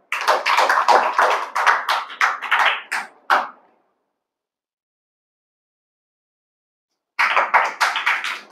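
Applause from a school audience at a results ceremony: a burst of dense hand clapping for a few seconds, a silent pause, then another round of clapping, close and lively.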